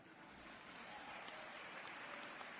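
A congregation in a Unitarian church gives soft, distant applause, an even wash of clapping that stays faint and steady throughout.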